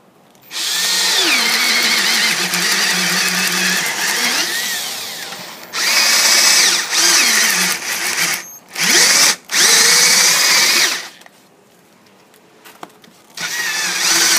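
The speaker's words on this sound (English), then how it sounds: "Okay, it drills a lot better after we sharpen it." Power drill boring with a sharpened Harbor Freight ship auger bit: loud, close whining bursts of several seconds each, the motor pitch sagging under load, separated by short pauses, with no talking.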